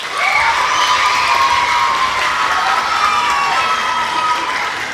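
An audience at an elementary school spring concert applauds and cheers steadily, a sustained, fairly loud wash of clapping with children's shouts and whoops mixed in.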